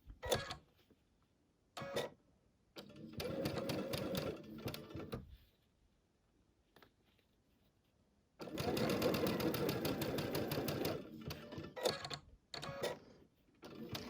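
A sewing machine stitches half square triangles for a Tula Pink butterfly quilt in two main bursts plus a few short stitch spurts, fairly close, with quiet pauses between.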